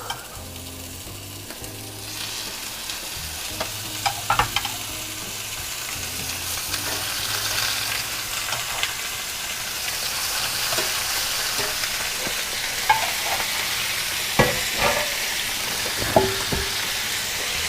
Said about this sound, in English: right now I'm going to go ahead and put a chop in and see if we're ready